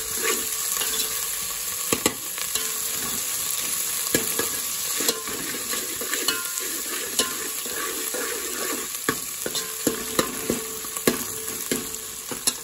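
Ginger-garlic paste and coriander frying in a pan for a granny-style chicken fry, a steady close sizzle with frequent sharp clicks and scrapes of stirring throughout, no talk.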